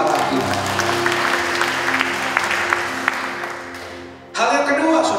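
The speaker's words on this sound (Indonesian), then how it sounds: "tepuk tangan bagi Allah kita." Church congregation clapping along as worship music with sustained tones plays loudly; the applause is steady and dense, then briefly dips before music and clapping resume.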